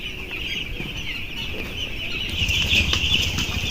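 Chicks and chickens on a poultry farm make a continuous close chorus of high peeping and clucking, with some wing flapping. The din swells louder toward the end.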